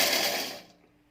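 A kitchen blender's grinder cup whirring loudly as it grinds small pieces of orange peel, then quickly winding down to quiet within about a second.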